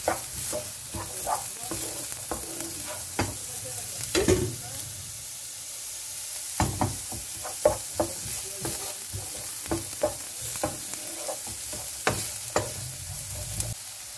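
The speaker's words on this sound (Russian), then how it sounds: "Все вместе обжариваем еще 3 минуты." Carrots and garlic sizzling and frying in a pan, with a utensil stirring and scraping at irregular moments, close by.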